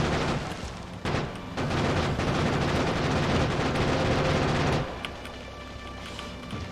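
Rapid gunfire in the video game Factorio, a dense rattling burst of shots lasting several seconds before abruptly thinning to sparse, quieter pops, with no speech over it.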